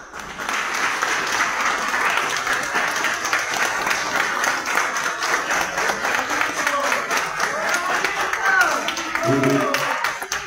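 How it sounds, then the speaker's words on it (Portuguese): A room of people at a union board inauguration for Fundação CASA staff breaks into sustained applause, dense clapping throughout with voices and crowd noise mixed in. "Queria também pedir pedir uma salva de palmas"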